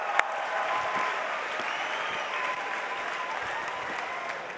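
Sustained audience applause for the Austria and Italy teams fills the room, steady and dense clapping from a crowd throughout with no pauses.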